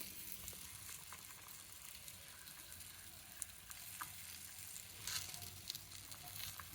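A flattened corn roti fries on a hot griddle pan with a soft, steady sizzle and faint crackling, fairly quiet and close, with a few small pops and no talking.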